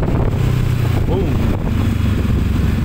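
Honda CB500F two-cylinder motorcycle idling through its muffler, a steady low rumble with wind buffeting, close by.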